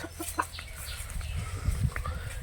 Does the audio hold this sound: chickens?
yes